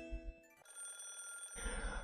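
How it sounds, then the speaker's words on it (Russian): A telephone rings in the Higurashi visual novel: a brief electronic bell tone gives way to a steady, sustained ring, fairly quiet, with no talking over it. "А потом зазвонил телефону парадного"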